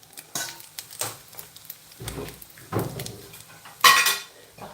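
Metal utensils scrape and clink against a frying pan as golden-browned pastries are lifted off, a few times, with soft handling noises and one sharper clatter near the end.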